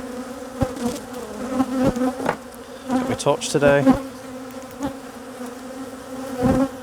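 Honey bees at an open hive, where queen cells and new nucs are being checked, give a loud, steady buzz close by, with single bees droning past. Someone speaks briefly over the hum.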